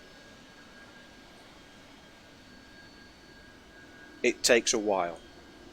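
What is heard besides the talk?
heavily laden Harrier jet taking off, video game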